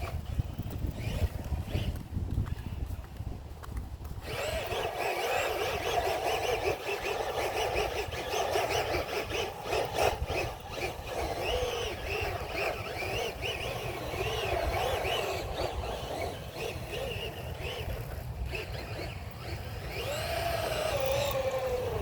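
A Tamiya Frog RC buggy fitted with a hotter vintage motor runs steadily, its electric whine rising and falling over a constant rushing, wind-like roar from the tires and drivetrain, with no talking.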